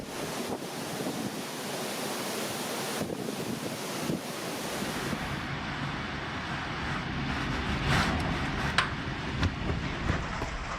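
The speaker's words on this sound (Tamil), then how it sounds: "ஹைதியை தொடர்ந்து அதே வேகத்தில் பகாமஸ் தீவையும் மேத்யூ சூறாவளி தாக்கி வருகிறது" Hurricane Matthew lashes the Bahamas with roaring wind buffeting the microphone over crashing surf, a continuous loud rumble of gusts and waves with no voices.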